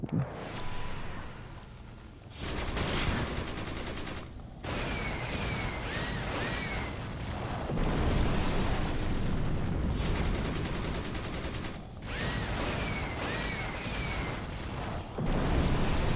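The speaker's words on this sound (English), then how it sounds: "Mini chain gun rails, then mini nuke." DC Universe Online combat: rapid mini chain gun fire rattling through several bursts, followed by booming mini nuke explosions, loud and dense with brief silent gaps between volleys.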